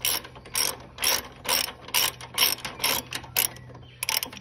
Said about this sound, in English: Loosen them up until when I can take them off with my fingers.